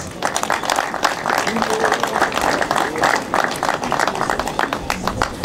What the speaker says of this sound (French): Je vous demande d'applaudir très fort Christophe Palomares.